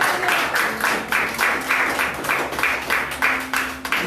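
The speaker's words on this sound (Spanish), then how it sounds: "Si ese aplauso es para Cristo, dáselo con mucha alegría." Congregation applauding in a church, a steady run of rhythmic group clapping that carries on at an even level from start to finish, loud and close with no talk over it.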